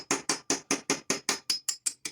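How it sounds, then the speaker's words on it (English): Sharp, evenly spaced metallic hammer strikes, about ten in a row, ring close up as a hammer pounds a metal punch into a copper bolt. "I'm going to pound this punch in here the best I can"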